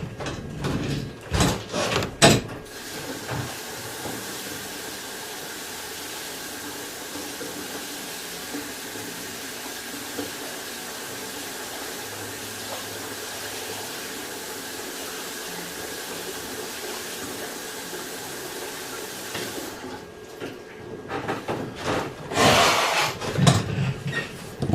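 Water runs steadily for about seventeen seconds, rinsing a dental wire and an acrylic fixed bite plate, with a few clattering handling noises before and after the flow.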